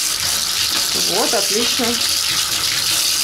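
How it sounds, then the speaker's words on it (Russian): Water runs steadily as a water heater tank fills, a continuous broadband rush with a person speaking briefly over it. "Видишь, вода пошла?"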